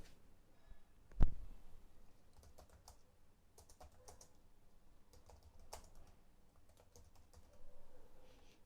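Someone types on a computer keyboard in quick, scattered bursts of close clicks, with one louder thump early on and otherwise quiet surroundings.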